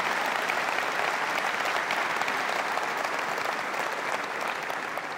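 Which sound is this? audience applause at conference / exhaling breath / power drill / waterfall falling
audience applause at conference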